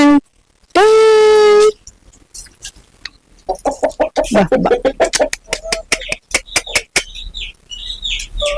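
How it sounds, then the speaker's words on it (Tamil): A rooster crows once, loud and close, followed by a string of sharp clucks and scattered bird calls. "எல்லாருக்கும் அலர்ட் கொடுக்குது சேவல்."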